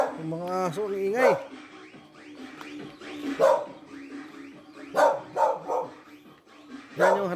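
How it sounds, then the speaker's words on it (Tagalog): Dogs bark and yelp in several loud bursts nearby, with whines and speech mixed in between. "Yung mga aso ingay."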